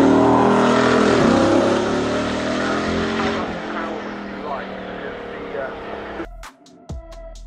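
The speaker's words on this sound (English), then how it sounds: "You can hear the usual rumbling Bugatti noise." Bugatti hypercar with an 8-liter W16 engine at the Goodwood Festival of Speed, a loud close rumbling roar that fades as the car passes, then an abrupt cut to quieter sounds.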